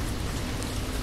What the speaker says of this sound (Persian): الان داره بارون میاد